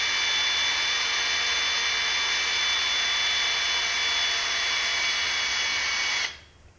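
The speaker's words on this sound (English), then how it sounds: "I'm just gonna put it in that hole and gently drill it out." A power drill whines steadily and loudly as it bores out a hole in a weed trimmer part, holding an even pitch for about six seconds before cutting off abruptly.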